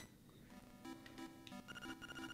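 A telephone ringing in the Game Boy Color game Zelda: Link's Awakening DX, a quiet electronic ring tone repeating in short bursts with no speech.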